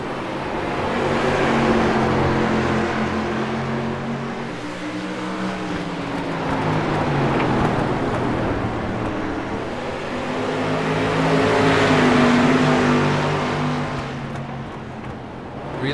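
A Street Stock race car in iRacing holds full throttle with a loud, continuous engine roar that swells and eases as it slides sideways through corners, with no voices over it.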